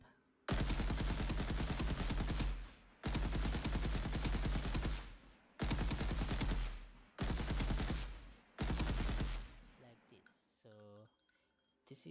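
Rapid automatic gunfire from a third-person shooter game built in Unreal Engine comes in four long bursts of dense, loud shots separated by short gaps, then a brief voice after.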